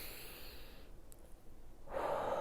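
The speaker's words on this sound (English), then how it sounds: "let's just take a moment to take a deep breath in" A slow, deep breath drawn in through the nose as a quiet rising hiss, followed by a louder, fuller breathy rush near the end, heard alone in a calm setting.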